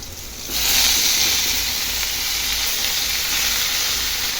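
Brinjal (eggplant) dropped into a hot pan, a loud broad sizzle that swells suddenly after a quiet moment and then holds as a steady frying hiss with no talking.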